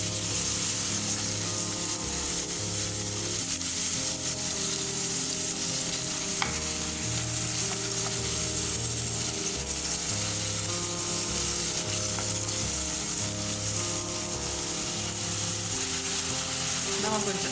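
Half a large onion, chopped into small pieces, frying in oil in a pot for beetroot seasoned rice, with a steady loud sizzle and clattering stirring under a low musical bed.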